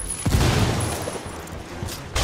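A loud burst of explosion and gunfire from the video game Ghost Recon Wildlands, a heavy low boom up front followed by rolling rumble and scattered shots, with a second blast near the end.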